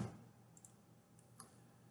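A computer mouse clicks an OK button, giving a few faint, sharp ticks spaced apart in an otherwise quiet room.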